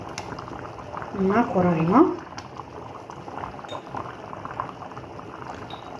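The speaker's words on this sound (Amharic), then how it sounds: "እሺ እንደምታዩት እየተንተከተከልኝ ነው" A pot of Ethiopian stew bubbles at a gentle simmer with a soft, continuous burbling close by, while a voice speaks briefly near the start.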